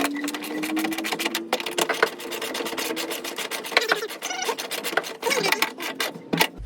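Hand ratchet snugging 10mm bolts on a Ford Bronco or OBS F150 jack and lug wrench assembly, a fast run of dense clicking strokes in short bursts with brief pauses, close and fairly loud.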